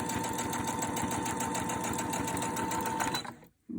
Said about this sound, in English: I'm going to just sew down there to make a start